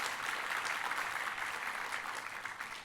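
A church congregation applauds during a worship service, with a sustained, even roar of many hands clapping that fills the room and fades slightly toward the end.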